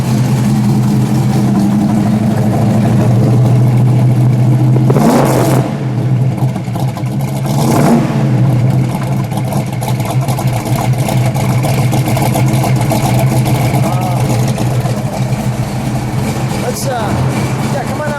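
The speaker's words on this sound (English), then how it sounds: "I love the grumble when it's at idle." A 1971 Plymouth Superbird with a Hemi V8 idles close by in a steady, loud, low grumble, with a couple of brief swells, while a person talks over it.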